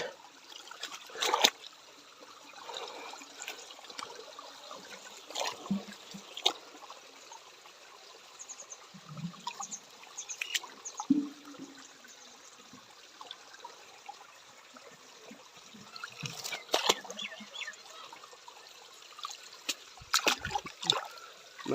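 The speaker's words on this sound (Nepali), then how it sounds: "यताबाट पानी आउँदैछ गाइस" Water trickles and flows into a stream at a fishing spot, a soft continuous babble with intermittent splashes and gurgles, faint and fairly close.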